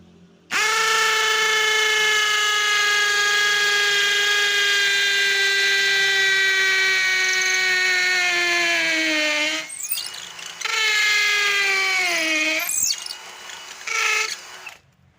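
A DCA ADJZ03-13 hammer drill with an 8 mm bit drilling into red brick whines loudly with a high, steady motor tone that sags under load, stops, then restarts in two shorter bursts.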